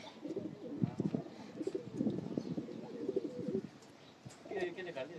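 Pigeons coo in a steady low, burbling murmur close by, while someone talks over them during part of the stretch.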